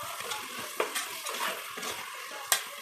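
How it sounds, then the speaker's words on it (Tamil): A spoon stirs curd into a cooking dish over a soft sizzle, with scraping strokes and a couple of sharp clinks against the pan, close and alone. "தயிர் போட்டு நல்லா மிக்ஸ் பண்ணிடுவோம்"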